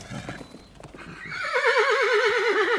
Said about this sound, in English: I bring horses, my queen.